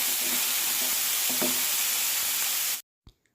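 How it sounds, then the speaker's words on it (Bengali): Vegetables sizzle loudly in a small amount of oil with salt for a home-cooked khichuri, a steady broadband hiss with a few stirring knocks, then cutting off abruptly into near silence with one faint thump. "আমার সবজিগুলো ভাজি করা শেষ"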